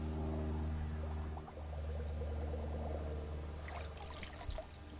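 Water pours and trickles into a tube to prime a budget transfer pump used for spa cleaning, a soft continuous splashing and gurgling over a low steady hum, close and quiet.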